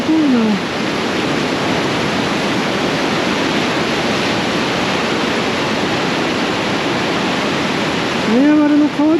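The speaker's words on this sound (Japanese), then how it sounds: "勢いがとても強くて、こうやって波が立って白くなってホワイトウォーターと呼ばれてるみたいですけど" Strong white-water rapids on the Niagara River at a narrow, deep stretch give off a loud, steady roar that fills the whole span, with a short tonal hoot near the start and again at the end.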